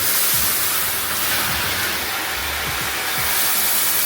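Water sprays from a shower head left dangling down during a winterization process, a loud, steady broadband hiss that runs without a break, close and alone with no talking.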